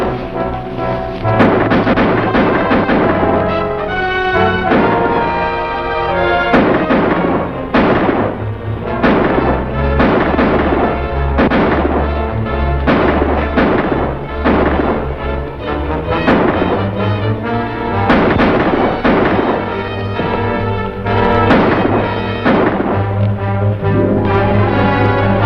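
Gunfire in a 1950 Western shootout on horseback: a dense, loud, continuous barrage of booming shots, some overlapping and echoing, with heavy rumbling over a steady low-end backdrop, with no talking.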